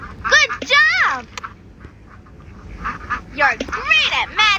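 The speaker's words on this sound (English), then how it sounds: "Those baby ducks are blocking the road." Baby ducks quack in a children's matching video game, bright chirpy quacks in two bursts at the start and end, with a short quieter stretch of soft background sound between them.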